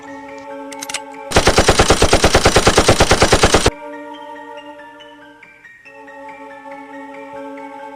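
A single sustained burst of rapid automatic gunfire, loud and close, rattles for about two seconds over a steady musical background in a dramatic execution scene.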